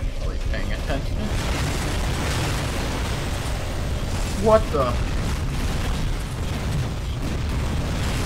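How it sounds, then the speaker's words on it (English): Cannon explosions from enemy turrets in the first-person shooter Tower of Guns, a few booming bursts under constant game noise, one sharper blast midway, with a startled voice speaking briefly. "I forgot there were cannons behind me still."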